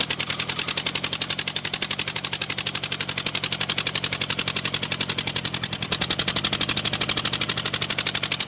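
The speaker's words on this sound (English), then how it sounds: "It blew a spark plug right out of the hole." Tractomotive TL10 engine firing rapidly in a steady, loud, machine-gun-like stream of sharp pops after blowing a spark plug out of its hole, continuous for several seconds with no talking.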